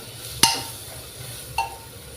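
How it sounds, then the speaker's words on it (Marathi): Onion sautés in a pan during mutton masala cooking, a low frying hiss punctuated by two sharp spatula clinks against the pan, close and distinct, with no voices. "इकडे कांदा परतून घेऊ."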